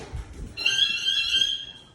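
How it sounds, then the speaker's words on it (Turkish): A smoke detector's high, piercing electronic alarm tone starts abruptly after a couple of soft knocks and sounds steadily, close and loud, during an aerosol fire extinguishing test. "Duman dedektöründen alarm verdi."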